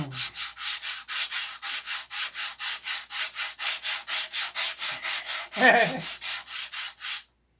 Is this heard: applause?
no